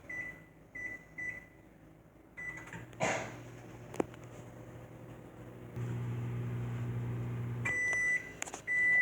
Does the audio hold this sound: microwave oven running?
yes